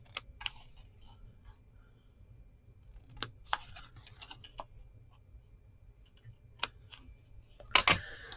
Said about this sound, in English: I'm going to take my scissors and I'm going to come in here from the corner to where it meets on the score lines and snip on all 4 corners